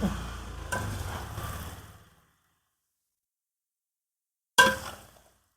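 A spice mixture is stirred into salted mango pickle, with about two seconds of close, wet, scraping mixing, then a silent pause, then one more short, sharp scrape or clink.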